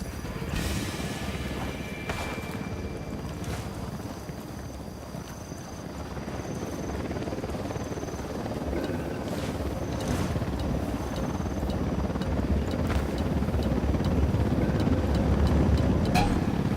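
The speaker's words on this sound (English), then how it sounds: "Helicopter inbound." Helicopter arriving in the video game Ghost Recon Wildlands: a steady, heavy rotor drone that grows slowly louder over several seconds, with wind rush and faint voices underneath.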